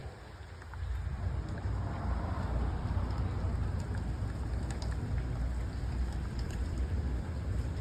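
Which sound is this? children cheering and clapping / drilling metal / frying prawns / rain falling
rain falling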